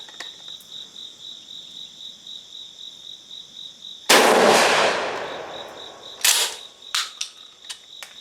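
An air gun, a Gforce GF12P just back from repairs, fires one loud sharp shot that decays over about a second, followed by a few quicker, fainter cracks or impacts, all against a steady chorus of crickets.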